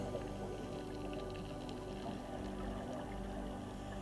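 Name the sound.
underwater water sounds and breath bubbles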